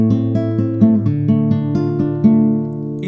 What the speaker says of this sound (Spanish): Entonces esta pequeña serie de acordes con arpegios sonarían así.